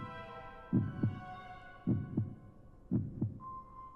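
Heartbeat sound effect in the horror dating sim game Bloody Painter: three evenly spaced double thumps, deep and close, over a low droning hum, with a faint tone entering at the end.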